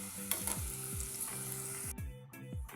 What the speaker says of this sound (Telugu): దీన్నంతా మొత్తం బాగా బ్రౌన్ కలర్ వచ్చేంత వరకు ఫ్రై చేసుకోండి